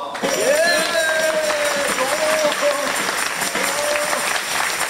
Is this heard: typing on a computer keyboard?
no